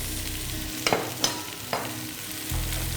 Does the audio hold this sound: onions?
yes